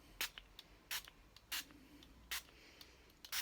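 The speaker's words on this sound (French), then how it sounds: "avec mon petit spray d'eau, je vais venir asperger mon tampon" Several quick bursts from a small water spray bottle misting a rubber stamp, spaced out irregularly, close and fairly faint, with no voices.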